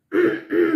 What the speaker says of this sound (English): I'm still clearing my throat and having a couple of coughs